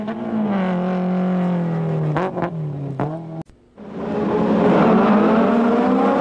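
BMW M3 rallycross car racing in a French rallycross championship round, its engine loud and close, holding high revs, dipping through quick gear shifts, cutting out briefly, then roaring back to full throttle.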